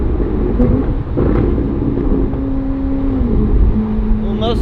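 A Ferrari fitted with headers is driven through its gears, its engine note rising and falling with pitch changes as it shifts, loud and close over road rumble.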